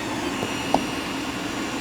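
A HICTOP 3D printer runs a PLA print with a steady mechanical whir and hum throughout, with one brief click partway in and no voices.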